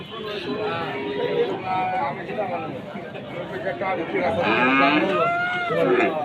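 Cattle at a busy livestock market, a cow lowing over a constant crowd of chattering voices, with a person talking nearby.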